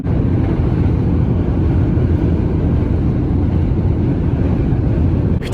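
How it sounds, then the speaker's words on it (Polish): Strong wind roars continuously across the microphone in Death Valley, a loud, dense, unbroken rumble with no pauses or voices. "ciągle bardzo mocno wieje"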